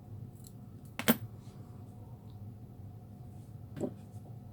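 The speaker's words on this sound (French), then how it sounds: "Je vais couper un petit morceau." A single crisp snip of scissors cutting a small piece of ribbon for a butterfly craft, close and clear, followed a few seconds later by a softer second snip against a quiet room.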